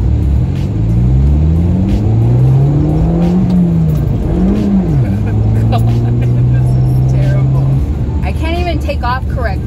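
Abarth small hatchback engine driven with a manual stick shift, revving up and down through gear changes, loud and close throughout with a driver talking over it.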